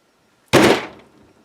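An Andis AGC2 pet clipper knocked against a hard surface to shake debris loose: a single sharp, loud thunk followed by a brief decaying rattle, alone in an otherwise quiet room.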